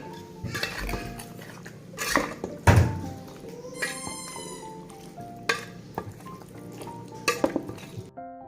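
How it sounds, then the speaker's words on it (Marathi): Food mixture stirred in a bowl in a village kitchen, with repeated clinks, scrapes and thunks of utensil against the dish, close and intermittent, mixed with background clatter. "तर आता चांगलं ह्याला मिक्स करून घेते."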